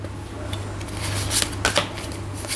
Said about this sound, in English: Usually I pull 3 more cards